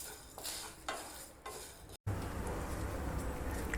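Spices for a Tamil pepper mutton masala are dry roasted in a pan, with close scraping stirs and gritty rustling that come in regular strokes, and after a brief cut a denser, steady sizzling scrape carries on.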